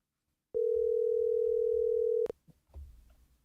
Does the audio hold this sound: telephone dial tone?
yes